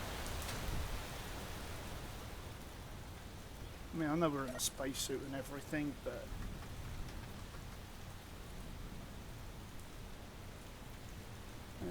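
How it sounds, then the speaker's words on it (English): Steady rain falls in the space-survival game Space Engineers, a continuous hiss heard throughout while someone talks over it, with a brief cluster of game sounds in the middle. "Let's get out of the rain."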